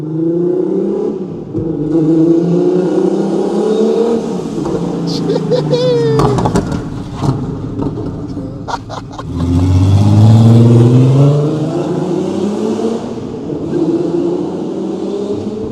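Turbocharged four-wheel-drive Cupra hot hatch with an R36 turbo conversion on a base map, its engine revving and surging up through the range in loud bursts, with people talking over and between the pulls.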